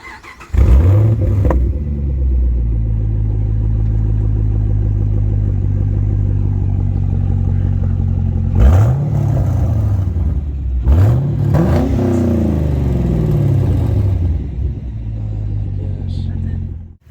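A deep V8 engine of a 2010 Chevrolet Camaro SS rumbles at a steady idle, then is revved hard three times, each rev swelling and dropping back, loud and close.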